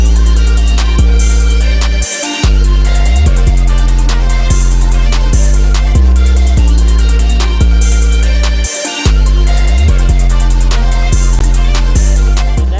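Trap beat: loud booming bass and kick in a steady looping pattern under a repeating melody, with fast rolling hi-hat ticks throughout and brief dropouts at the turnarounds, no vocals.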